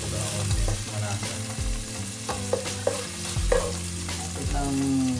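Pork ribs sauté with garlic and ginger in a pan, a steady loud sizzle and frying hiss with stirring scrapes and clinks throughout, no talking.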